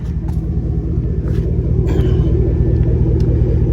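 A GMC Denali's exhaust, with the muffler and resonator deleted, gives a deep, throaty rumble that holds steady and loud up close, with no talk over it.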